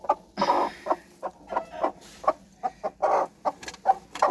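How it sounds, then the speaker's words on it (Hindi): A hen clucking in a steady series of short, soft pulses, fairly close, with faint background noise. "ये मुर्गी को मैंने उठा के साइड में रख दिया।"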